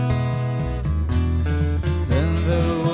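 A clean electric guitar with no effects, played by a Filipino band covering a love song, with a bright, natural tone, busy picked notes over a steady low bass line, loud and close with no voices.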